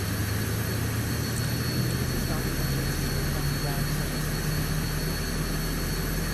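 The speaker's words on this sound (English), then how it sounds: "then we start the other engine" Jet engine of a SEPECAT Jaguar spooling up during start in Microsoft Flight Simulator 2020, a steady loud whine and low rumble with a rising tone, while a voice talks over it.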